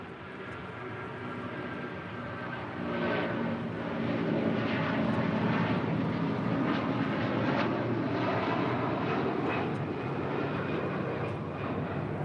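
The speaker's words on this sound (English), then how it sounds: "A330-300 now rolling down 25 right." A heavy Airbus A330-300 jet rolls down the runway on its takeoff run at LAX, a steady, sustained engine roar heard from a distance that swells slightly and holds without letup.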